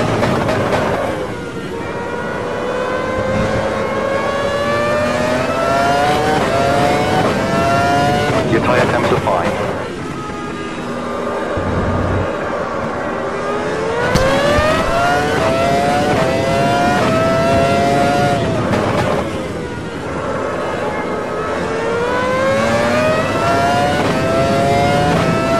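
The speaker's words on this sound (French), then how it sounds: "le bruit du moteur est excellent" A Formula 1 car engine in the racing game Automobilista screams loudly, with repeated upshifts making the pitch rise in steps and then drop for braking into corners, heard up close throughout.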